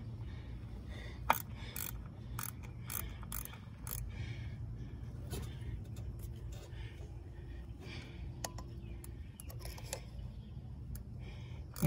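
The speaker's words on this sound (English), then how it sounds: "it's a 10mm ratchet tightening down the 10mm bolt onto the ignition coil on the last spark plug there that we've changed out" A 10mm ratchet tightening a bolt onto a car ignition coil, with quick, faint clicking strokes of the pawl in short bursts over a low steady hum, close and quiet.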